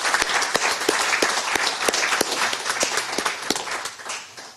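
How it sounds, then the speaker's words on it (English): An audience at a leadership summit applauds Dr. Burgess: a steady, dense wash of hand claps with sharp individual claps standing out, holding for several seconds before thinning slightly at the end. "Let's give him another round of applause."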